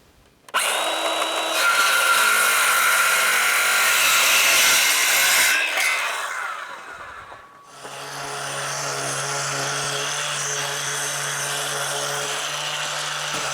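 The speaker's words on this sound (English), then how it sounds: "I'm going to cut those two pieces and we'll do some drilling." A power drill whines loudly through scrap wood for several seconds, stops briefly, then a second steady motorised drone runs on with a low hum.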